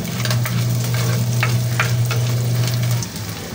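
Squid balls and chicken balls fry steadily in an oiled pan, a continuous loud sizzle with a low hum beneath and occasional sharper pops and spatters, alone with no talk.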